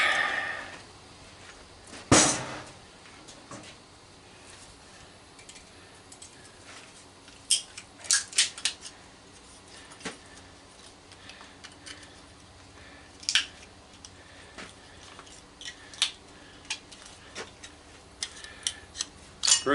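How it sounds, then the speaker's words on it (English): Small bolt cutters snipping through parts of an old microwave being scrapped for copper: scattered sharp snaps and clicks, some loud and close, separated by quieter handling noise. "then what I'll do, I'll get my little bolt cutters. Gonna cut in there."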